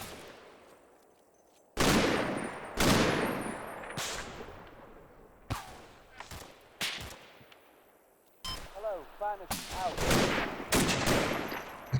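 Gunfire in a Combat Mission World War II battle, Operation Epsom: sharp, loud shots and short bursts crack out repeatedly, some close and some farther away, with brief automatic volleys and ringing echoes between them.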